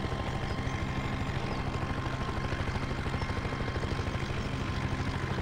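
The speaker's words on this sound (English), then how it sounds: "Thank God this helicopter does 100 miles an hour" Helicopter in Farming Simulator 2017 flying steadily, a dense continuous rotor and engine drone with a fast regular chop, loud and unbroken throughout.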